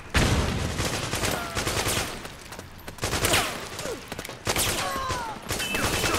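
Dense rolling gunfire in Resident Evil 2, overlapping bursts and shots crackling continuously with shouted commands and voices mixed in the battle din.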